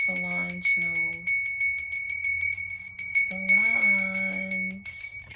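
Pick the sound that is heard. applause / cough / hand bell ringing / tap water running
hand bell ringing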